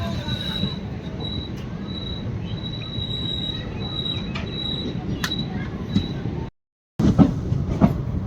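The Howrah Gaya Express departs Kiul junction with a steady low rumble of rolling wheels and a thin high squeal, continuous and close, briefly cutting out before resuming.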